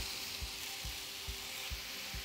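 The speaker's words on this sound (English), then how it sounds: "Nice little sizzle there, lets us know our pan is ready for us." Ground turkey burger patties sizzle softly and steadily on a hot grill pan, a constant faint crackle with a few dull thumps of handling in the kitchen.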